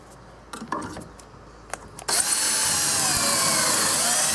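After a few light knocks and handling sounds, a power drill drives a pocket hole screw into hardwood for a bracket, its whir starting abruptly and holding steady and loud to the end.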